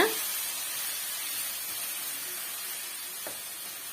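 Onions sauté in a hot pan for a simple onion thokku, giving a steady, even sizzling hiss close by that holds unbroken, with a faint tap near the end.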